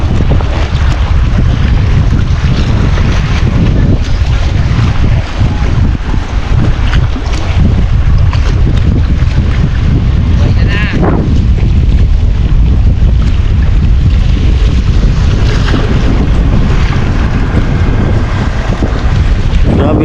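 Strong waves churn continuously in a stormy, windy coastal setting during heavy rain and flooding in Bicol, with constant loud wind buffeting the microphone and rough water noise throughout, no pauses.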